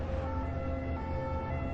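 An ambulance siren sounds as a steady, continuous wail with sustained tones, holding a constant level throughout with no speech over it.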